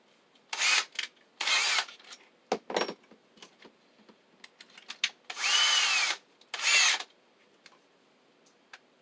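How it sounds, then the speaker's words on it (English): Several short bursts of a small power drill whirring, starting and stopping as it drills a small hole for mounting conduit protection to a wall, close by with quiet clicks and handling noises between them. "to have to drill a little hole in here to screw this to the wall with."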